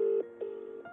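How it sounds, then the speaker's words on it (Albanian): Ringback tone of a telephone call going unanswered: a sustained electronic tone that steps to a new pitch a few times within a second, clear and alone. "e dëgjojmë se zilja është duke rënë, por që askush nuk përgjigjet nga ana tjetër e telefonit"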